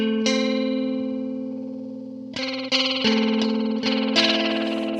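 An Eventide Rose modulation and delay pedal with its depth turned up produces sustained guitar chords swelling with warbling modulation, then several new strums ring out with shimmering repeats, loud and clear.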